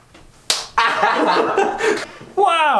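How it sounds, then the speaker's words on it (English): A sharp slap rings out as a foot strikes a hand, followed by excited voices and laughter, then another smack near the end. "Kick my hand."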